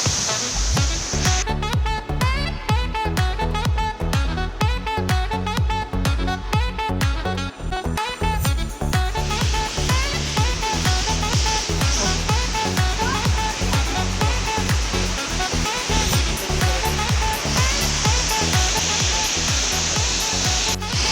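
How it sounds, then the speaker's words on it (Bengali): A large mountain waterfall in the hills of North Bengal pours in a loud, constant roar, heard up close and filling the whole stretch without a break. "সামনে ওয়াটার ফলস ঠিক আছে জাস্ট দেখো নিচে জলগুলো দেখো"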